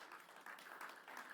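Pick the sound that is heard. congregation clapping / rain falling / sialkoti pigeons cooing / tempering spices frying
congregation clapping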